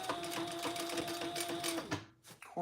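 A sewing machine runs a steady, close whirring stitch through a laptop bag at a corner turn, then stops abruptly near the end, leaving a brief quiet before another short mechanical sound.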